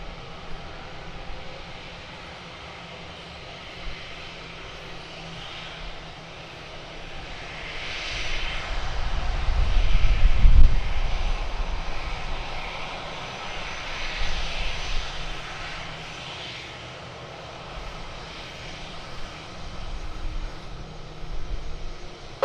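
A Royal Air Force Airbus A400M Atlas takes off, its turboprop roar building from a steady distant drone to a loud peak mid-way, then slowly fading as it passes.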